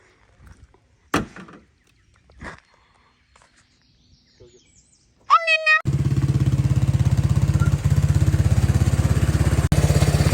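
A dirt bike engine starts up abruptly after some quiet shuffling and voices, then idles loudly and steadily up close with a rapid, even putter.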